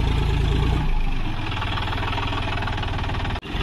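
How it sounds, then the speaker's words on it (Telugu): Tractor engine running steadily while pulling a cultivator through a farm field, a loud, close, continuous low rumble with a slight knocking pulse and a brief dip near the end. "చలో ఇక మనోడు అయితే కల్టివేటర్ కొట్టుడు స్టార్ట్ చేసిండు."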